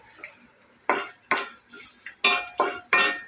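Chana dal, dried red chillies and curry leaves frying in a pan for a bottle gourd milk curry, heard as a steady sizzle broken by several loud, rhythmic scrapes and clinks of a spoon stirring against the metal.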